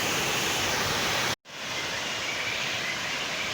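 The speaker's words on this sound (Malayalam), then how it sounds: "ഇതാണ് ഈ പുന്നയാർ വെള്ളച്ചാട്ടം എന്ന് പറഞ്ഞ സ്ഥലമാണിത്." The Punnayar waterfall in Idukki gives a dense, constant roar of rushing water, loud and close. The roar breaks for a brief dropout near the middle and then resumes unchanged.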